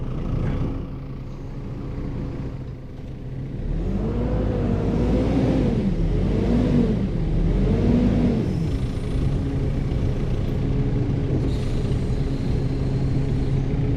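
Vehicle engine rumbling steadily up close as it backs up and maneuvers on a narrow track, the low drone swelling and wavering through several gear and throttle changes with no talk.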